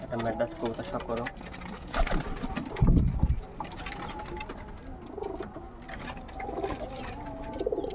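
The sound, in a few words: Kaldom pigeons cooing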